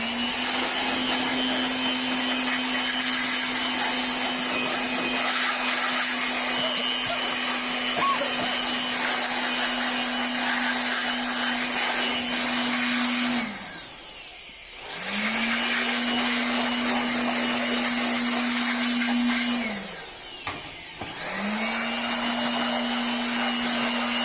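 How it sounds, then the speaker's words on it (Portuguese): An air blower roars steadily while blasting dust and dirt out of a desktop computer, a loud continuous whooshing drone with a motor whine that briefly cuts off twice and spins back up. "eu quero mostrar para vocês a quantidade de poeira e sujeira que sai só com o soprador"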